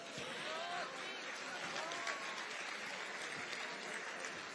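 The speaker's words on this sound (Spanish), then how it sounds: "Fuerte el aplauso." Sustained audience applause at a campaign forum on security and development in Tijuana, a broad wash of clapping with faint voices mixed in underneath.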